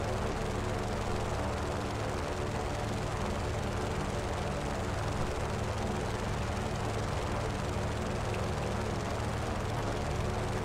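Thunderhawk jet aircraft flying in the Just Cause 3 video game, a steady broad engine roar and rushing drone that stays constant and close throughout.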